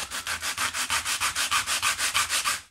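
Tamiya plastic chassis sanded with 100 grit sandpaper, about fifteen fast, even rasping strokes in a steady rhythm, close up and clear with no voices.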